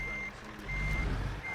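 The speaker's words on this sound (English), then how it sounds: "It's really hard to back a semi up." A semi truck reversing in the American Truck Simulator video game gives three steady electronic backup beeps over a low engine rumble; no one speaks.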